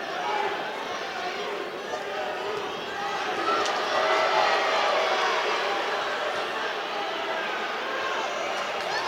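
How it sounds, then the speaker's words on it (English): A wrestling gym crowd at a high school dual between Greeley Central and Greeley West builds into a loud, steady roar of chatter and shouting, swelling around the middle and holding near throughout. "Crowd starting to grow electric here."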